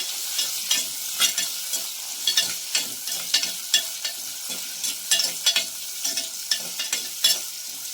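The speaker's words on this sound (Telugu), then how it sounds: "ఆనియన్స్ కొంచెం బ్రౌన్ కలర్ వచ్చినాక దాకా వేయించుకోవాలండి" Onions and green chillies fry in a clay pot with a constant bright sizzle, while frequent scraping stirs tick along in an uneven rhythm close by.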